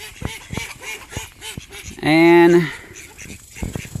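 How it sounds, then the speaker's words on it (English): Ducks on a farm give one loud, close quack burst in the middle, with a person talking before and after. "You see some ducks over here."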